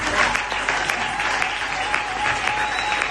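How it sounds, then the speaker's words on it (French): A church congregation applauds and cheers for Jesus, steady dense clapping filling the whole stretch at a loud, even level with crowd voices mixed in. "On peut encore acclamer pour Jésus."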